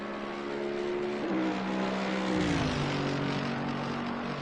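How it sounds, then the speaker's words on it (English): A race car's engine passes the pit wall at the Nürburgring, a loud sustained drone whose pitch shifts and drops as it goes by, close and alone without talk. "let's have a little listen to his engine"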